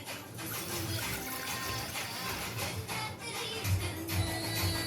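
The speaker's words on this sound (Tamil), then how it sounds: "ஐஸ் டம்ளரில் 2 டம்ளர் தண்ணி ஊற்றிக்கிட்டேன்." Water poured from a steel tumbler into a pan while making ginger tea, a steady splashing, trickling stream that runs close and fairly loud for about five seconds with no talking.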